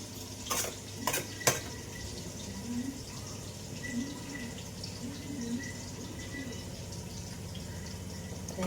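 Food roasting in a pan until golden: a soft, steady frying hiss throughout, with a few quick metal stirring clinks near the start, close and quiet.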